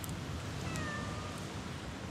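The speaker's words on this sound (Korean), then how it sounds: "와, 여기도 고양이 천국이네." Cats at an abandoned place in a Balkan town full of cats give a brief, fairly faint meow over steady outdoor background noise, with no speech.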